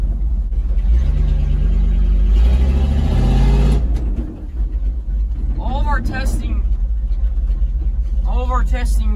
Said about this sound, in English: All of our testing we try to do burnout.